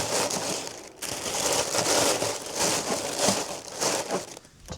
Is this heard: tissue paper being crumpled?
yes